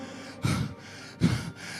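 Two sharp, strained gasping breaths, close and loud, separated by short pauses, with a faint hiss of breathing between them.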